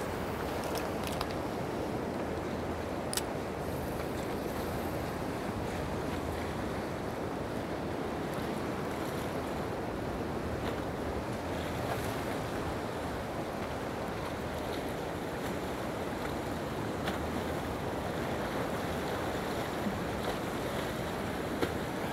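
Ocean waves wash around a fishing boat out for squid near Gapado island, with a constant broad roar of surf and wind buffeting the microphone, plus occasional faint knocks.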